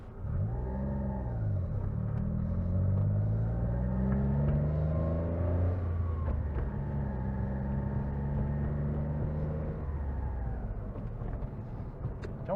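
A 1993 Honda Beat small car driving, its little engine droning and rising in pitch as it revs and accelerates, steady interior rumble throughout, moderately quiet with no talking.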